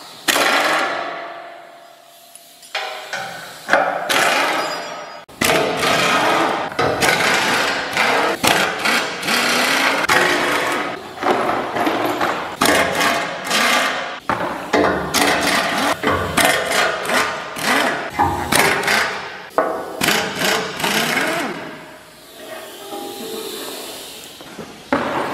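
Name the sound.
pneumatic tool removing grille screws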